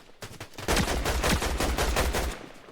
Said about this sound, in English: Where the hell is this dude shooting from?